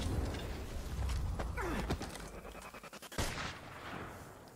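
Gunfire rings out during an Apex Legends finisher animation in the video game: a few sharp, loud shots, then a quick rattling burst, mixed with other in-game effects.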